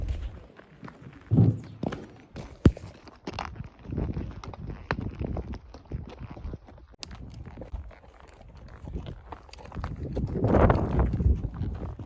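Horses' hooves thud and clop unevenly on soft ground in Grand Teton country, fairly close, with wind and rustling around them and no talking.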